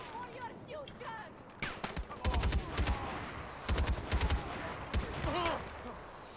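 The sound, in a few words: gunfire in Far Cry 4 video game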